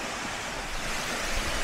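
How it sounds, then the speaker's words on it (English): A small waterfall in Bavaria on a hiking path gives a steady, loud rush of falling water, an unbroken broadband hiss that stays level throughout, with no voices. "Just a charming waterfall."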